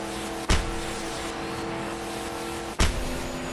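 A car speeding along in the video game Just Cause 2, its engine holding a steady, loud roar, broken by two sharp thuds spaced a couple of seconds apart.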